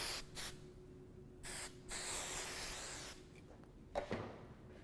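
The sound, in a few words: hairspray spraying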